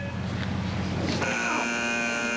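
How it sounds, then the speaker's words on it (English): A steady electronic race-start buzzer at a downhill skateboard and street luge race sounds abruptly partway through and holds, over a constant background hum. "you heard the buzzer right there"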